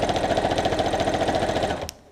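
A sewing machine runs a fast, even burst of stitches back over a seam while a picnic tote is being made. It chatters loud and close for under two seconds, then stops abruptly.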